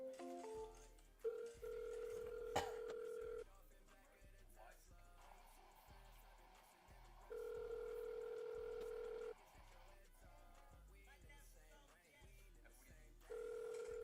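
A voicemail system beep sounds after a recorded greeting: several steady electronic tones start and stop at intervals, fairly faint, over a low background.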